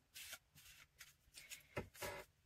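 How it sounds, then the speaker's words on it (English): Tarot cards being shuffled by hand, a series of soft riffling bursts at an uneven rhythm, close and quiet, with no voice over them. "Now, I'm shuffling these cards."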